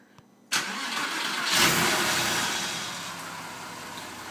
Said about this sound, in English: 2002 Porsche 911 996 stock exhaust startup.